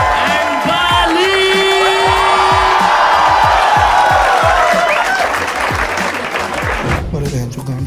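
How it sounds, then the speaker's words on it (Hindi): An audience claps loudly and continuously for the finalists at a comedy show, with cheering and whoops rising over the applause and a voice speaking through it before the clapping fades. "Start clapping for my finalists for the day"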